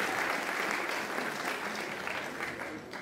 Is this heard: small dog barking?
no